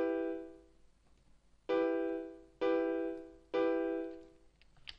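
A minor chord is triggered from the FL Studio piano roll three times in a row. Each is a clean, bright piano-like chord hit that decays before the next, over near silence.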